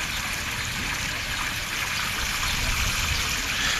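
Waterfall pouring steadily, a dense, even rush of flowing water held at a constant moderate level from start to finish with no voices.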